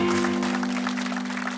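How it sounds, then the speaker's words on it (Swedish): Studio audience applauds at the close of the BingoLotto TV lottery show, a steady wash of clapping with a sustained musical tone beneath it. "Och vi ger dem en riktigt, riktigt stor applåd när de avslutar kvällen."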